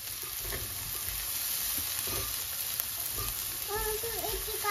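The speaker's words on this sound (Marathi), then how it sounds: "आधी कांदा परतून घेऊयात" Chopped onion frying in oil and butter gives a steady, dense sizzle that hisses continuously and close by, with faint scraping stirs and a brief light tonal chirp late on.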